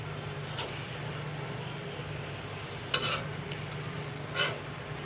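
Ash gourd (jali kumro) bhaji fries in a pan with a soft, steady sizzle, broken by a few brief clinks of a utensil against the pan.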